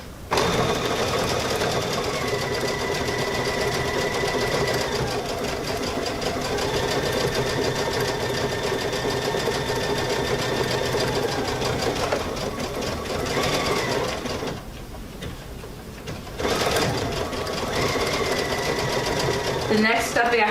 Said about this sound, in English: stitch this one down.